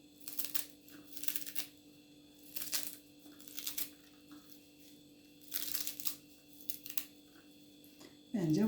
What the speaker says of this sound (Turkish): maydanozumuzdan doğrayacağım